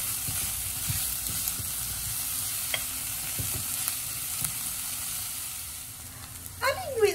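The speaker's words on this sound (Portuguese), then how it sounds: "Vou esperar dar uma refogada aqui agora na linguiça calabresa com a cebola e o alho." Calabresa sausage fries with onion and garlic in a pan, giving a steady close sizzle with occasional stirring scrapes and a brief clatter near the end.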